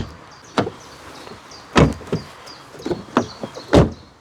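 Several sharp, solid thumps of a 2015 Seat Leon ST wagon's door shutting, spaced irregularly over a few seconds, fairly close with quiet background between them.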